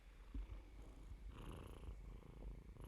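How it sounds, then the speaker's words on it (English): A cat close by purrs softly and steadily, a faint low rhythmic rumble with gentle breathing pulses and no talking. "so if you hear purring, that's where it's coming from."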